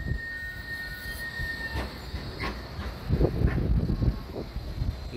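A Blackpool tram pulls out of the Squires Gate terminus with a low rolling rumble, a faint high wheel squeal and louder clattering surges toward the end. No one speaks.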